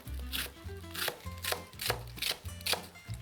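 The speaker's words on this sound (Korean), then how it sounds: "자, 이제 야채를 자를게요. 먼저 양파." A knife chops onion on a cutting board for a Mediterranean bean salad, giving about eight steady, evenly spaced chops up close with no talking.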